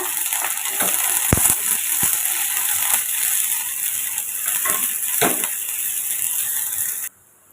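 Round dried red chilies sautéed in a pan, producing a continuous close sizzle with scattered crackles and scraping clicks of stirring that cut off abruptly near the end.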